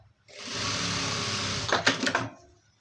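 A sewing machine runs steadily as it sews a double stitch over an existing seam, a continuous whirring hum that ends in a few quick rattling bursts before stopping.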